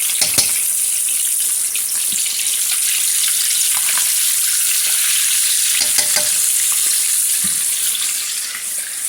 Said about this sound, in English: The grease is popping right now